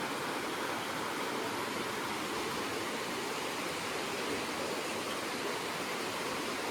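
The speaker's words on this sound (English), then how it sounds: "Okay, there's water in the cave." Water flowing inside a cave along a river makes a steady, dense rushing wash with no pauses, like a small cascade close by, heard alone.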